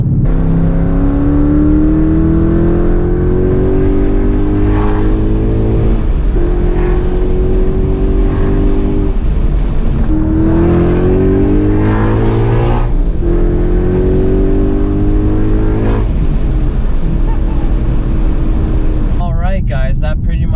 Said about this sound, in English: That's why I went with MBRP catback, is because it comes with an H-pipe and just gives it a more aggressive rumble.